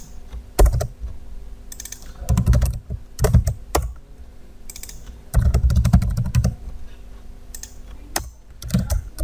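Keys clatter on a computer keyboard while Android code is written, in short bursts of rapid clicks separated by pauses, close and fairly loud with no talk.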